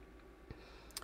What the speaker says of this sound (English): let me click on this one.